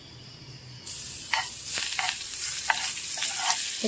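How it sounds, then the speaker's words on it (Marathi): A coriander, garlic and ginger paste dropped into hot oil for tempering bursts into a sudden loud sizzle that stays steady, with spattering crackles and a few stirring scrapes. "त्याची पेस्ट बनवली आहे कोथिंबीर, लसूण आणि अद्रकची पेस्ट फोडणी घालतोय"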